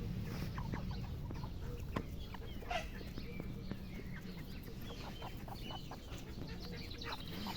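Roosters and hens clucking and calling around a farmyard, with steady low background noise and occasional sharp short sounds.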